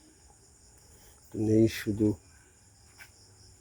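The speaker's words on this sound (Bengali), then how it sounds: "ঝিঝে পোকা ডাকছে" Crickets chirping on an autumn night in rural Bangladesh, a faint high steady trill in the background while someone speaks briefly over it.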